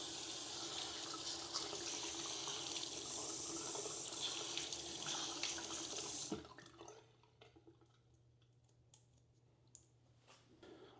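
A part from a cat water fountain is rinsed under a running tap, a steady close splashing gush that stops partway through, leaving faint clicks and small handling sounds.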